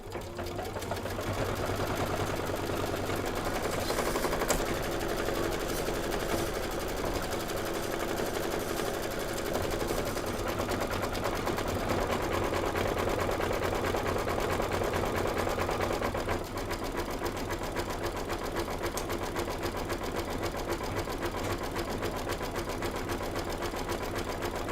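An embroidery machine stitches out a design with a steady, rapid mechanical patter that continues unbroken and moderately loud throughout, with no voices.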